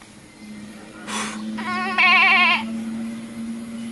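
A goat bleats up close, a short wavering cry of about a second and a half, heard clearly over a steady background hum.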